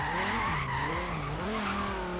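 A Dodge Viper in the racing game Forza Horizon 3 accelerates at full throttle out of a corner, its loud engine note climbing repeatedly through quick gear shifts, with a tire-skid edge over the roar.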